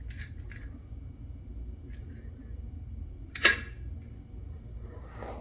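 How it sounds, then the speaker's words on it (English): A Perfex Forty Four camera shutter fires at a high speed, giving one sharp, crisp click near the middle amid faint handling ticks and quiet room noise. "It doesn't sound like a standard shutter when it's in these higher speeds. It sounds like a singular movement."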